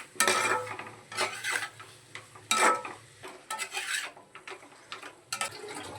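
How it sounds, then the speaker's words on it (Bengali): A spoon scrapes and stirs spice paste with a little water in a pan, in several loud, rasping strokes with quieter gaps between them and no voices. "সামান্য একটু জল দিয়ে মশলাটা কষে নিই"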